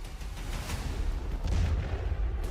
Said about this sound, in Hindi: दूर से एक ड्रोन उड़ते हुए कार्गो शिप के पास आता है और जहाज पर बड़ा धमाका होता है।